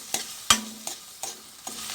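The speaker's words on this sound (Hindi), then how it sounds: "सबसे पहले ये डाल दूँ अदरक, लहसुन, हरी मिर्च। पहले इसको लगाना है तड़का।" Ginger, garlic and green chili fry in hot oil for a tadka, a soft sizzle under repeated sharp scrapes and taps of a spoon stirring the pan, close by.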